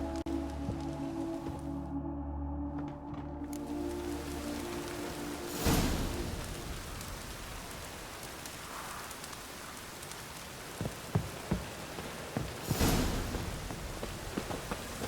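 Steady rain falls in The Witcher 3: Wild Hunt, a continuous hiss of drops on surfaces heard alone, with a faint low rumble and a few louder bursts and crackles scattered through.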